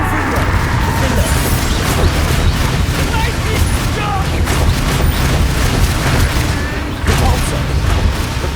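Spell explosions in the video game Hogwarts Legacy, with loud, dense booms and crashing blasts that continue without pause amid battle noise and voices.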